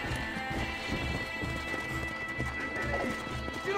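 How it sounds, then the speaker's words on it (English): A horse gallops and neighs in the Red Dead Redemption video game: a steady, rapid hoof rhythm runs throughout at moderate level, with whinnying mixed into the dense game soundscape. "My horse!"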